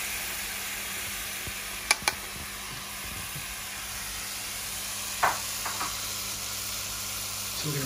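Chicken thigh in teriyaki marinade sizzles steadily in a pan for noodle yaki soba, a constant close hiss broken by a few sharp clicks and spatters, with no talk over it.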